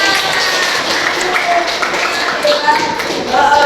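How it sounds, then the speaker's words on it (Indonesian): Classroom applause from students, a steady dense patter of claps lasting several seconds with some louder bursts near the end, fairly close and continuous. "Oke, tepuk tangan."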